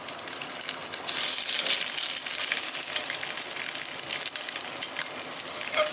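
An egg frying in a pan gives a steady, close sizzle of hot oil with fine crackling and spitting that holds at an even level throughout, with no voices.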